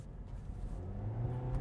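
The 1.5-litre petrol engine of a 2024 MG MG3 accelerating, giving a fairly faint, coarse low drone whose pitch climbs steadily through the short stretch.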